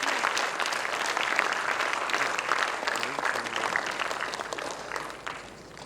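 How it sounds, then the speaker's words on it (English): An audience claps steadily as a guest speaker walks onto the stage at a public talk, dense and sustained, fading slightly at the very end. "Can we give him a round of applause as he comes on stage?"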